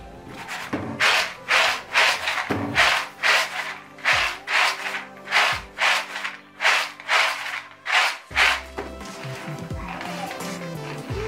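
Peanuts being stirred in a pot as they roast, giving a steady run of rhythmic scraping strokes about every half second, loud and close, with faint clunks between them and no talk.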